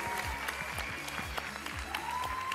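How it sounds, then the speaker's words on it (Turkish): A studio audience claps at the final of a televised Turkish talent show, dense steady applause over a rhythmic music bed, continuous and fairly loud for a couple of seconds. "Büyük alkışlar."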